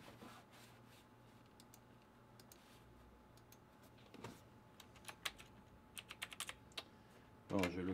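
Quiet, sparse keystrokes on a computer keyboard tap out in an irregular rhythm, growing busier toward the end and capped by a louder clatter.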